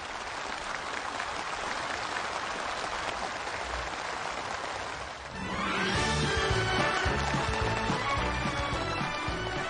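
Loud, sustained applause from a crowd at a local-industry factory completion ceremony, with a brief dip midway before the clapping swells again, denser and fuller, as the ribbon is cut.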